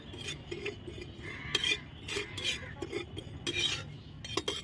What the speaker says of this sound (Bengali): এবার আমি এটা লাল করে ভেজে নিব একসঙ্গে।